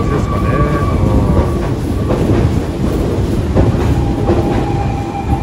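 A Hokushin Kyuko express train with subway through service departs a station, rumbling steadily past at close range, wheels clattering over rail joints with faint squeals, a continuous loud roar as it pulls away.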